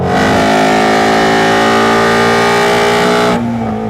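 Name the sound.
sports car engine revving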